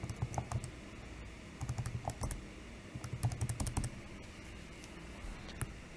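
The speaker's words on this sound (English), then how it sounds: "When we type that into our calculator" Buttons pressed on a calculator to enter numbers, quick light clicks in short bursts with pauses, faint and close, no talking.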